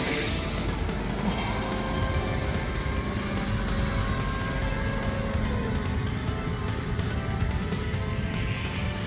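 An E-flite F-4 Phantom RC jet passes over a runway, its ducted-fan whine sweeping in pitch against continuous wind-like rush, moderately loud and steady with no talk.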